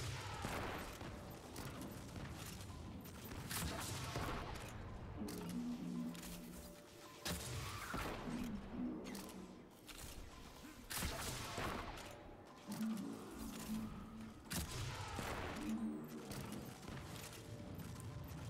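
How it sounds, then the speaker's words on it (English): Repeated bursts of gunfire in Destiny 2 as a player jumps and shoots in the PsiOps Battleground on the Cosmodrome, dense volleys of shots and impacts rattling steadily throughout over game sound effects. "We're going to jump and shoot."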